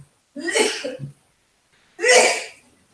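An adult sneezes twice at a dinner table, with one loud, breathy burst, a short pause, then a second strong sneeze, close and clear in a quiet room.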